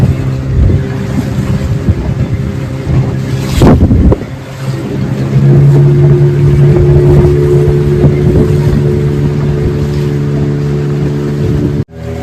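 A motorboat speeds out at sea off Devbag beach where the creek meets the Arabian Sea, its engine droning steadily up close under strong wind buffeting, with a few thumps and splashes early on.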